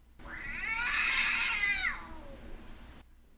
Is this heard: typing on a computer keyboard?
no